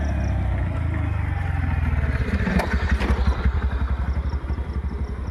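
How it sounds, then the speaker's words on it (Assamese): Motorcycles and scooters pass close by on a road during a morning walk, their engines loud and droning, building to a rapid, throbbing exhaust pulse as one goes by, with no talking. "বাইক স্কুটি কণ্টিনিউ আহি আছে, আৰু গাড়ীৰ চাউণ্ডত একো শুনা নাপায় বাৰু"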